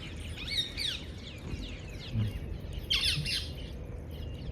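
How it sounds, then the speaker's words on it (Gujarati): Parrots squawk from a neem tree in a village setting: a run of harsh, bright calls repeats in bursts, fairly close, over a steady low background murmur, with no talk. "પોપટ બોલે મસ્ત મજાના"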